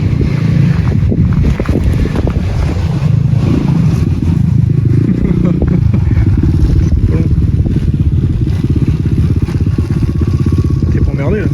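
Several KTM motorcycles approach on an island trail, their engines a loud continuous rumble with wind buffeting the microphone and people talking over the din.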